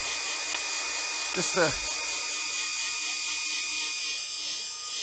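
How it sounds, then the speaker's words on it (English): A handheld blow dryer drying paint on a wood-turned Christmas ornament gives a steady, close whirring rush that runs through the whole stretch, with a brief voice breaking in near the start. "So I'm just gonna hit it with the blow dryer really fast."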